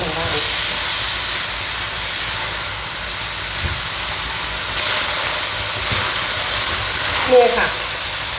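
Steady sizzling hiss of rice stir-frying in a hot wok, with occasional scraping and clatter near the end, continuous and close.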